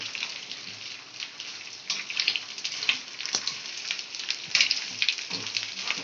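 Bombil chutney, made from dried Bombay duck fish, frying in a pan with a steady crackling sizzle and small pops, close and even in level, with no voices.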